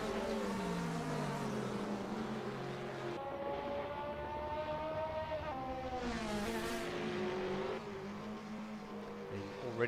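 A race car at The Bend circuit in an ACADS ATCC Series round, driven hard through turn 12, its engine note rising and falling through gear changes, steady and prominent at moderate distance with a commentator talking.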